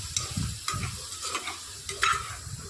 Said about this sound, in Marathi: आता व्यवस्थित फिरून घेऊया